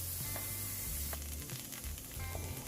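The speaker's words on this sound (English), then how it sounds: "Now we're gonna add butter" Butter sizzles and crackles in a hot pan alongside a seared steak, a close, continuous hiss with small pops and a faint metallic clink.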